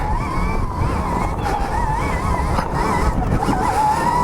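A Stark Varg electric dirt bike climbs a hill. A loud, continuous whine with wavering pitch rides over steady rumble and wind noise, close and unbroken throughout.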